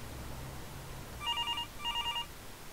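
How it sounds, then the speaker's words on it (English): A telephone rings in the PC adventure game Demetrios, with two short bursts of electronic trilling. The rings are fairly quiet and sit over a low background hum. "I woke up suddenly, that sound, the phone."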